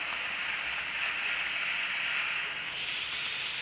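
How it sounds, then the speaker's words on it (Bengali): Cauliflower leaf greens with lightly fried onion stir-frying in a pan, giving a steady, even sizzling hiss that holds at a constant level throughout with no voices. "শাকটা কিছুক্ষণ নেড়ে নিব"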